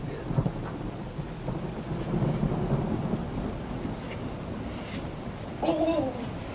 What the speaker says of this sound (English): it's really just fully raining sideways now.